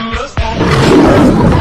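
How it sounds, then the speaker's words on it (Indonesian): A lion gives a loud, rough roar close up after a brief low grunt, the sustained growl holding steady to the end. "Ini namanya singa teman."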